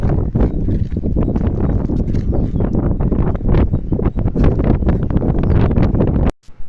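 Strong wind buffets the microphone outdoors, a loud, rough, continuous roar with gusty surges, cutting off abruptly near the end.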